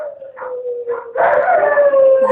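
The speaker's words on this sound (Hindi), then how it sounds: "रोडों पर केवल कुत्तों की आवाज थी।" Dogs howl along night-time roads, a long steady wail with shorter yips breaking in, then a louder overlapping chorus of several dogs swelling near the end, no talk.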